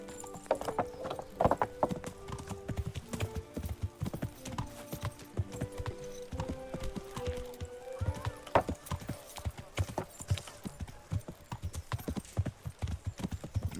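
Horse hooves gallop in Kingdom Come: Deliverance, a steady fast clip-clop close by with occasional whinnies and faint mechanical clatter, no speech over it.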